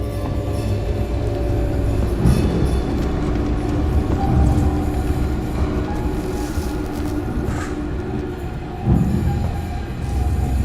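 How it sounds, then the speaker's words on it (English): Space train rushing past in the survival horror game Alien: Isolation: a sustained, heavy rumbling roar with rattling and metallic clatter that swells and holds for several seconds, loud and close, no talking. "Hit by a space train."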